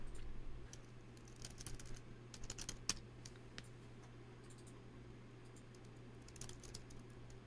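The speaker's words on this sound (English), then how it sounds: "if we hit the Windows key, we can just type to search" Keys on a computer keyboard are tapped in quick irregular bursts on a laptop, faint and close, with pauses between the clusters of clicks.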